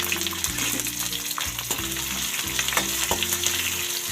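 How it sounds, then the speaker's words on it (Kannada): Onions frying in hot oil with mustard seeds and cumin for a cauliflower dish make a loud steady sizzle close by, with repeated spatula stirring strokes and scrapes throughout. "ಈಗ ಈರುಳ್ಳಿ ಹಾಕ್ತಾಯಿದ್ದೀನಿ."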